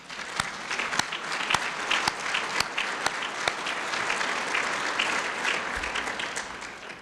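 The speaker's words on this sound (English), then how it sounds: "Please help me give him a round of applause." A round of applause from an audience at a community heritage council event, dense steady clapping at moderate level with a few sharper near claps standing out, no voices.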